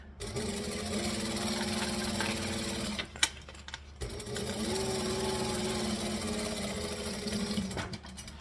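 Sewing machine stitching fabric in two continuous runs of rapid, even whirring, separated by a brief pause with a click, close and fairly quiet, no voices.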